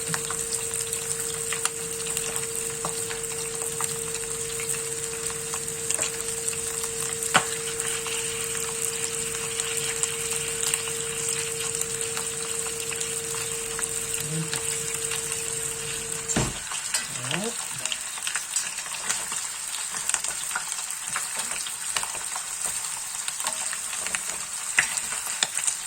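Rabbit pieces browning in a pan for lapin chasseur give off a steady, close sizzle and crackle, with a faint background tone that cuts out partway through.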